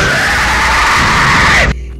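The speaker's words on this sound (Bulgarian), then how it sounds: "не съм виждал върклак, който да крещи. Като човек." A werewolf in the horror video game Survivors 3 lets out a loud, sustained human-like scream lasting nearly two seconds, harsh and close, cutting off abruptly into near silence.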